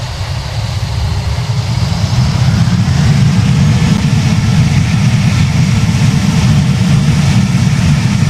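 A Boeing 787-9 jet engine spools up in the flight game Project Flight, a loud, steady low-pitched roar that builds over the first couple of seconds and then holds constant.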